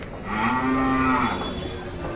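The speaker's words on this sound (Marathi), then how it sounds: "सगळ्यात मोठी मापाची प्युअर खिल्लार जातीची गाय आलेली आहे" A Khillar cow at a cattle market in Sangola lets out one long, loud, close moo that fades out, followed by quiet background noise.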